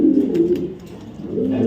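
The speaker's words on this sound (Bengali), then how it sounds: "অস্থির লেভেলের একটা নর কবুতর" A male racing pigeon of light colour coos close by in a short, low, throaty burst that swells again after a brief dip.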